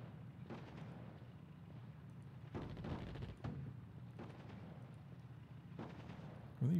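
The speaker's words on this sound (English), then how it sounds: "What are they even shooting at over here?" Gunfire and artillery in the World War II desert strategy game Attack At Dawn: North Africa, set at Tobruk: several faint booming shots at irregular intervals over a low rumbling background.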